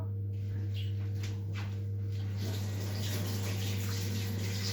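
Tap water running steadily into a sink while biscuit paste is washed off, a continuous close hiss that grows louder and fuller partway through.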